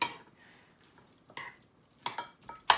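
Homemade chili sauce being mixed into bibimbap rice in a bowl, with a few scattered clinks and scraping stirs, soft and close, separated by quiet gaps.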